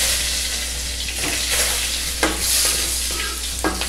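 Garlic sautés in very hot oil: a bright, continuous sizzle with a few sharper stirring scrapes and no talking.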